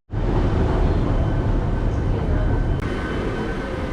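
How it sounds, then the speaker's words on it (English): A tram or train ride in Singapore, a loud steady rumbling roar of the moving carriage that starts abruptly and holds throughout, with a brief click near the end. "we're now taking a kind of like a tram, I think it is, or like a tube or something"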